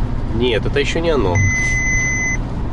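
A car's driver-drowsiness warning gives a single steady, high-pitched electronic tone lasting about a second, sounding right after someone speaks, with faint road hum beneath.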